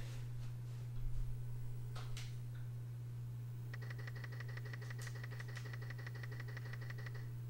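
The prize wheel spins in the SNES game Wheel of Fortune Deluxe Edition, a rapid, steady run of clicking ticks that starts partway through and continues to the end over a constant low electronic hum, with no talk.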